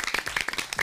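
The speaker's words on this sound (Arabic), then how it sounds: "والله والنعم صفقوا حق مشعل" A short burst of audience clapping, several hands striking in quick irregular rhythm at moderate distance.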